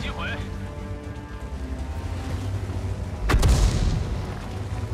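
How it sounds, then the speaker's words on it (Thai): A single heavy tank cannon round slams into a light Chinese 59-16 tank in World of Tanks, a sharp broadband impact about two-thirds through, over a steady engine rumble and game noise. "น่าจะเป็นคันอื่นยิงเข้ามานะครับ"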